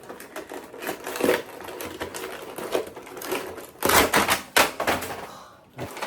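Sticky tape being torn and pulled off a wrapped gift package, heard as a series of close, sharp crackling rips and peels with a few louder bursts near the end, no talking.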